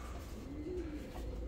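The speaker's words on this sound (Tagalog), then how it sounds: "Ito mga ibon natin no." A soft, low pigeon coo rises and falls once over a faint background hum, quiet and close by.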